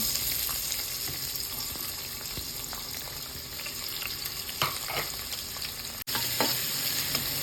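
Chopped onions fry in a pan with a steady, close sizzle, punctuated by scraping stirs and light clicks of the utensil.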